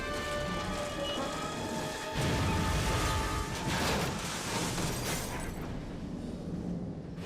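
A train crashing and a bridge collapsing in the video game Syberia II: a dense, loud roar of rumbling and crashing debris that swells midway, then slowly thins out into a fading noisy tail.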